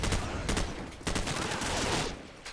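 Rapid bursts of automatic gunfire in the video game Call of Duty 4: Modern Warfare, loud and close, in choppy overlapping volleys.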